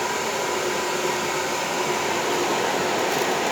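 Steady, loud broadband whoosh of a centrifugal snail-type blower feeding air to a forge, running continuously at an even pitch with no breaks or talk.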